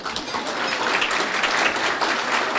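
An audience at a chamber of commerce annual awards banquet in Wisconsin gives dense, sustained applause that fills the hall at an even loudness for the whole span.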